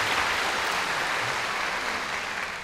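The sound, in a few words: audience applause at a concert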